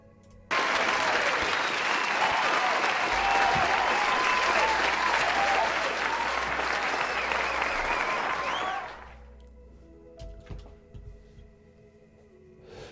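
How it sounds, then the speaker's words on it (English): Audience applause at a comedy art competition final, a loud, full burst of clapping from a crowd that starts abruptly, holds steady for about eight seconds, then cuts off into quieter room noise with a few scattered sounds. "This is getting the round of applause as well"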